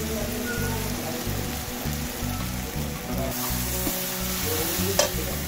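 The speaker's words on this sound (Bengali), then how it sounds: "এবারে হলুদ গুঁড়োটা দিয়ে দেবো।" Taro and shrimp fry in a pan with turmeric powder added, giving a continuous, dense sizzle like steady rain, loud and close, with a faint clink of a utensil near the end and no speech.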